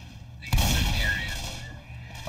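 A single loud gunshot aimed at the Witch in Left 4 Dead, a heavy close blast with a ringing tail, alongside faint game ambience and a voice in the background.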